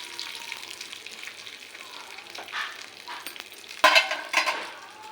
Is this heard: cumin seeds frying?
yes